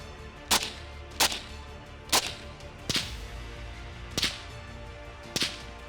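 Suppressed 300 Blackout rifle firing 220 grain rounds outdoors, six sharp cracks spaced roughly a second apart, each a loud snap with a brief tail, over a low background rumble.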